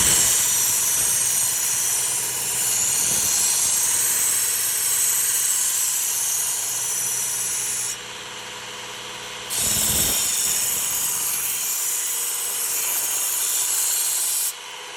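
A Work Sharp sharpener grinds an edge onto a Shun chef knife, a loud close abrasive whirring rasp running in long passes with short pauses between strokes.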